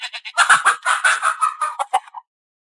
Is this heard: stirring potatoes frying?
no